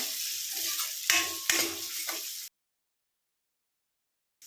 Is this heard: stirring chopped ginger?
yes